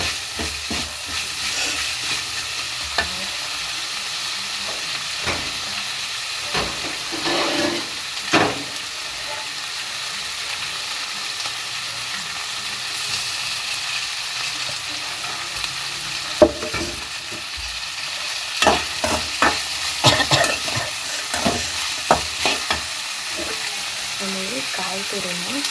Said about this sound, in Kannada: ಈಗ ಸಾಕು, ಆಲ್ಮೋಸ್ಟ್ ಚೆನ್ನಾಗಿ ಫ್ರೈ ಆಗಿದೆ